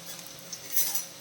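Chopped garlic and ginger sauté in a pan for a chicken perattu, giving a soft steady sizzle with a brief stir or scrape near the middle, close and without talk.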